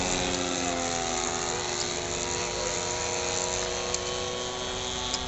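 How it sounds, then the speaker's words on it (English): A Piper light aircraft approaching to land at a vintage airfield gathering, its propeller engine droning steadily with a constant, moderately distant hum throughout. "One of the Pipers coming in."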